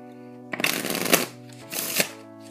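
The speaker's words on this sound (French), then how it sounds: "on aura besoin d'un jeu de cartes qui pourra très bien être mélangé" A deck of playing cards is shuffled close up in two quick riffling bursts, crisp flutters over a faint background hum.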